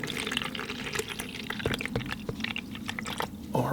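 Fresh water poured into a water bucket while watercolor painting, a steady splashing trickle running close by with small squishy sloshes throughout.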